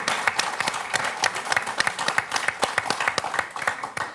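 A studio audience at the French TV quiz show Questions pour un champion applauds a contestant, with dense, steady clapping filling the room and no voices over it.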